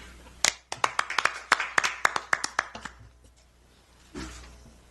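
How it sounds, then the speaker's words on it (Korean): A small audience at a Korean political press conference gives a short burst of applause for a speaker, with roughly a dozen sharp distinct claps in uneven rhythm from a few hands, fading out before a brief rustle. "박수 부탁드리겠습니다"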